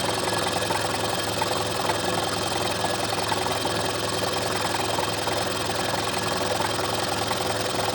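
A Tree 2UVR-C vertical milling machine cutting metal, a steady, dense whirring and grinding hum that holds evenly at fairly loud level for the whole stretch, with no talking.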